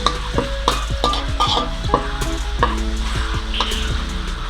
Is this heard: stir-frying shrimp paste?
yes